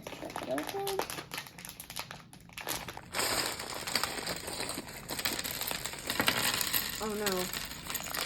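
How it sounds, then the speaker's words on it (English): A plastic bag of LEGO BrickHeadz parts is torn open and handled close up, with crinkling and small pieces rattling and clicking, while a person talks over it. "Now we got the bag. Let's rip it open."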